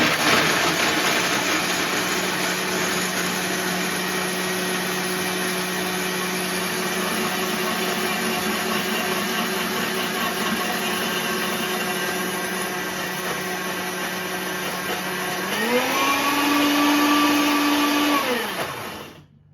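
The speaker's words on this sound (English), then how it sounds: "I have some already soaked cashews, and let me just blend that up" A blender whirs steadily at a loud, even pitch as it purees soaked cashews with water, then surges to a higher speed near the end before spinning down abruptly.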